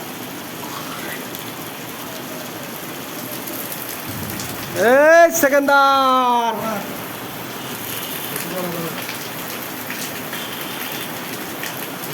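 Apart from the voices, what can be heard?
rain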